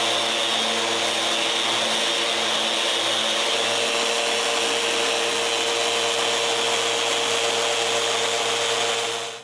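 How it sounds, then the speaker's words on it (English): A power sander works the inside face of plywood during the build of a bathroom vanity, giving a loud, steady whirring hiss with a constant hum that runs unbroken, then cuts off at the very end. "I need to make the final sanding on the inside of the plywood"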